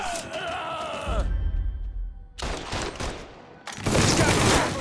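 Gunfire in the video game Mafia 3: loud bursts of shots and sustained volleys fill the second half, one heavy burst near the middle and a denser louder barrage at the end, over game music and rumble.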